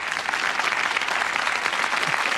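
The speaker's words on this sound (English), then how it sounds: "Sometimes that gets a round of applause" Studio audience on the Bullseye game show breaks into sustained, dense applause, a continuous wash of many hands clapping at even loudness throughout.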